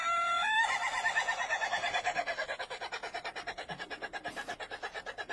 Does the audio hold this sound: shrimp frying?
no